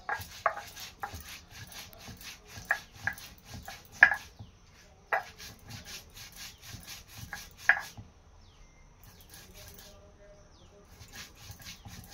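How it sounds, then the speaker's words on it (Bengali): Spices ground by hand on a stone grinding slab for khichuri and meat, with rhythmic scraping and knocking strokes in irregular bursts, moderately close, then quieter toward the end. "এটা এখন আমি বেটে নিচ্ছি।"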